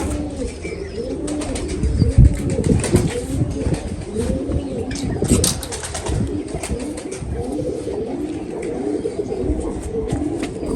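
Domestic pigeons coo in a dense, overlapping chorus close by, with soft rustling and occasional wing flaps mixed in at a steady level throughout.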